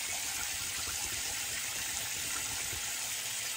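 Water wrung and shaken out of a wet shaving brush, a steady rushing splash of running water that holds evenly and loudly for several seconds with no pauses.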